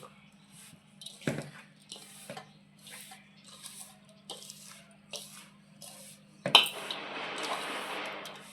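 Roasted gram dal (putnala pappu) being stirred into a laddu mixture in a bowl for a Shivaratri sweet, heard as scattered soft scrapes and light clinks with a low steady hum, ending in a louder rustling stir.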